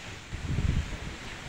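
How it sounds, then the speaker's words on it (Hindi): Wind gusts buffet the microphone in a low, rumbling roar that swells briefly in the middle before settling back to a steady blustery hiss, during a heavy rainstorm. "कितनी तेज हवा चल रही है।"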